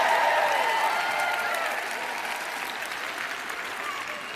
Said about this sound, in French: Je vous prie d'applaudir un peu plus fort, cela m'aidera.